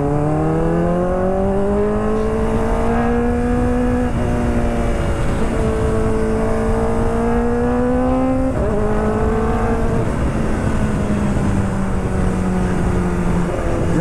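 A car engine revs hard at high RPM, its harmonic whine climbing and holding through repeated rising pulls with steady, loud intensity and no talking.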